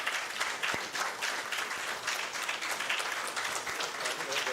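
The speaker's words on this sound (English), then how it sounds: "A great applause by all the audience present here" Applause from the audience at a 95th NASI annual session at IIT Guwahati, a dense, steady clapping that fills the hall without letup, loud and close.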